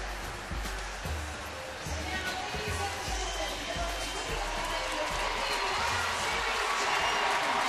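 A sold-out ballpark crowd roars and cheers as the San Francisco Giants take the field against Cincinnati, a steady, dense wash of distant voices and applause that holds throughout at a fairly even level.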